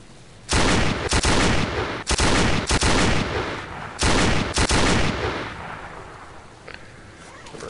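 Rifle gunfire in the video game STALKER: three loud bursts of rapid shots about a second apart, each a dense rattling volley with sharp cracks, followed by a fading echoing tail and low ambient rumble.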